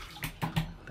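Hot water runs into a basin, a soft continuous trickle broken by three quick, sharp taps of a blade against the basin's inside.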